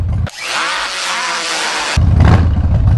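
A Harley-Davidson Softail Springer with Vance & Hines short exhaust pipes revs loudly and harshly for nearly two seconds, then drops back to a deep, close idle rumble.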